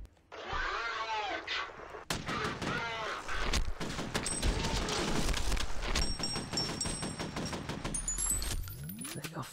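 Rapid, dense gunfire from the PC shooter F.E.A.R. comes in sustained bursts of sharp cracks, loud and close, with a voice talking over parts of it.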